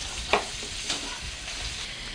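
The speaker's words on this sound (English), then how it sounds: "Looks like it's deep frying to me." Steady crackling sizzle of food frying in hot oil, with a couple of brief clinks standing out near the start.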